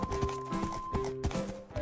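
Horse hooves clip-clop in a video game in a brisk, regular rhythm of thuds. They play over a sustained tonal game music background, loud and close, with no talking.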